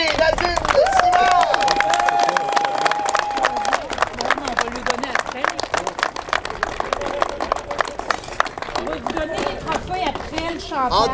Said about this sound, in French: Je vous demande de les applaudir très fort, Pierre Dubé et Nadine Simon!